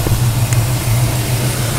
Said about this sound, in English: so we'll go into the hood and let you listen to it.